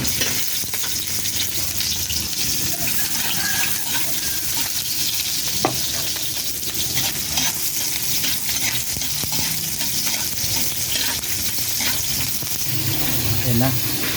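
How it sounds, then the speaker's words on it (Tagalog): Meat bones sautéed with garlic in a pan sizzle loudly and continuously, with stirring scrapes and occasional clinks throughout and a voice faintly in the background. "Ayan na, pinisa na natin yung karne."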